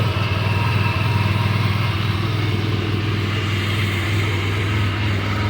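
A 2015 BMW R1200GS motorcycle engine runs after a cold start inside a garage, a loud, steady idle with a throbbing low rumble that continues evenly throughout, with no talking.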